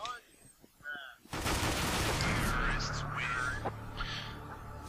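Bursts of gunfire from Counter-Strike: Global Offensive break out after a second of voices and then run as a dense, sustained volley, loud and close with shots overlapping under occasional talk.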